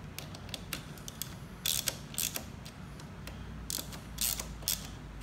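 Close ratcheting clicks in short bursts as screws on a motorcycle handlebar switch housing are snugged down during a HeliBars Horizon ST handlebar install on a BMW K1600GTL, with quiet pauses between bursts.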